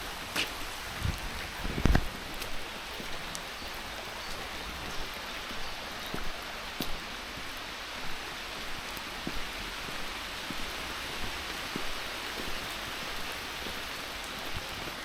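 Torrential rain pours steadily under the tree canopy of a public park in Dalry, Scotland, a dense continuous hiss with scattered heavier drips and taps, fairly faint and with no talking.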